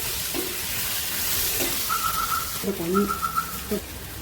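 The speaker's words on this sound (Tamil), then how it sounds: "இப்போ இதில் உப்பு போட்டு வதக்கிக்கலாம்." Unmarinated chicken sautéing with salt in a hot pan gives a steady, close sizzling hiss, with a brief tonal voice-like sound partway through.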